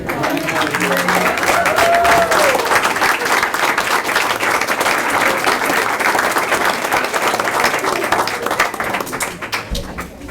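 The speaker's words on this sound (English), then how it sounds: "One more round of applause." A room at a school board of education meeting breaks into a sustained round of applause, loud, dense clapping that carries on for about ten seconds with some voices mixed in and a few louder claps near the end.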